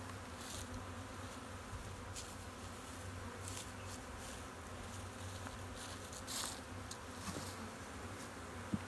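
Honey bees buzz steadily over an open hive during a winter Varroa mite treatment check, a soft continuous drone close by with no voices.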